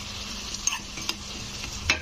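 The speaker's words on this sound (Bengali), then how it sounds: "কাজু কিশমিশটাকে একটু ভেজে নিতে হবে" Cashews and raisins frying in hot ghee for a Ganesh Chaturthi sweet, giving a steady soft sizzle with a few brief clinks of stirring.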